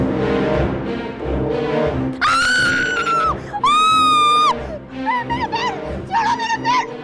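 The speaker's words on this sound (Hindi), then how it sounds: "तुम इस तरह क्यों चिल्ला रही हो?" Loud, long screams from a woman in a horror drama scene, a few sustained shrieks rising high, with shorter wavering cries and a busy mix of voices and noise between them.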